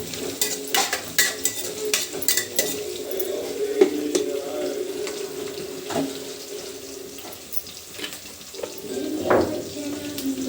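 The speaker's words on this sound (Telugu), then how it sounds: "ఇంకా అలాగే ఎర్రగడ్డలు అండి, అలాగే కరివేపాకును వేసుకున్నానండి." Onions and curry leaves fry in oil with mustard and cumin seeds in a home kitchen, giving a steady close sizzle broken by scattered clatters and stirring knocks, with no talk.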